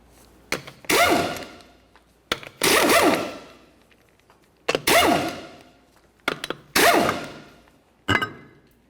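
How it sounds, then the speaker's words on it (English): Removing the four 21mm lug nuts and pulling the wheel off a 2004-2006 Scion xB, heard as a series of loud, sharp impact-wrench bursts, about six in all, each ending in a metallic decaying clatter and separated by short pauses, with no talk. "continue on to your 4 21mm lug nuts and then remove your wheel"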